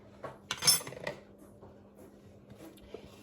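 Lid of a Droyek multifunctional electric kettle being lifted off, a few small metallic clinks and one sharper clatter, close and fairly quiet, with no talking.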